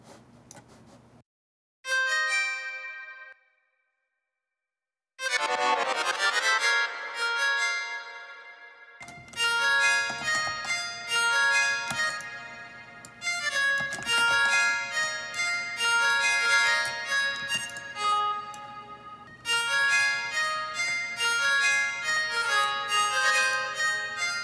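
Melodic synthesizer instrument built from a paper sound and played with reverb, bright plucked tones forming short phrases and chords after a few brief test notes and silences.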